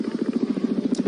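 A Chinook helicopter launches at an airshow, its rotor blades beating in a steady, fast, loud thrum with no voices over it.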